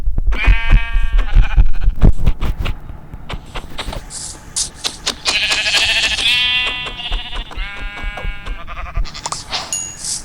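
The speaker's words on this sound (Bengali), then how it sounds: "এইগুলো ওই ছাগল না?" Goat bleats from the Minecraft video game, several loud, close, wavering calls repeating over the clip among clicks and game sounds, with no talk.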